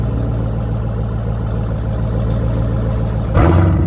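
A car engine heard from inside the vehicle gives a low steady hum, then catches in a sudden louder burst near the end as it starts up.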